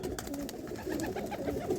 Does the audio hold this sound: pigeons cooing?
yes